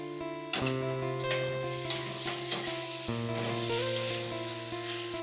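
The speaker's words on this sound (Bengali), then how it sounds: "এবার দেব পেঁয়াজ পেস্ট করা এটাকে ভালো করে ভেজে নেব" Onion paste frying in a pan with nigella seeds for a prawn malai curry, giving a steady sizzle with a few short clatters of stirring, close and moderately loud, while a faint tonal hum runs underneath.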